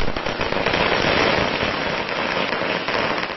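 Firecrackers set off by celebrating political supporters in Kanpur, India, a dense continuous crackle of many rapid bursts that stays loud and steady throughout, with no talk.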